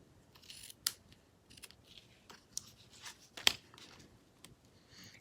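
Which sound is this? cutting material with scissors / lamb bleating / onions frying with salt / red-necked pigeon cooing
cutting material with scissors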